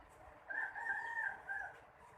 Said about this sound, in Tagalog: Yan, malaking ibon yan